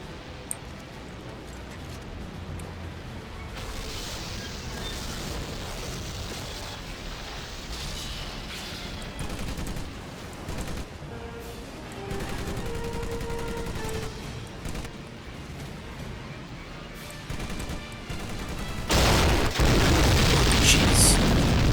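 Battle gunfire and explosions rumble through a Pearl Harbor–style attack in Medal of Honor: Pacific Assault, a dense continuous wash of booms and bursts that swells louder near the end, with faint voices mixed in.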